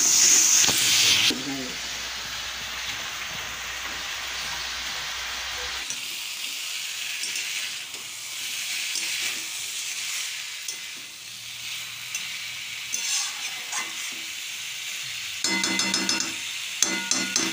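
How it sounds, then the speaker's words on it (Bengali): Vegetables sauté in a pan with a loud, crackling sizzle, then water goes in and the sound turns into a softer, steady hiss of steam with occasional clinks of utensils; close by, with brief bits of talk. "এই তো সবজিটা কষিয়ে নিয়ে জল দিয়ে দিলাম।"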